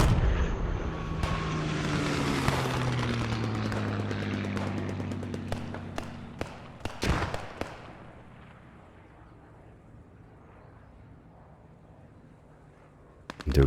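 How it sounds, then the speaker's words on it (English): In a World War II strategy game, a Stuka dive bomber roars in, then a heavy explosion lands as a direct hit, followed by scattered crackling gunfire and a fading rumble. "Direct hit by the Stuka."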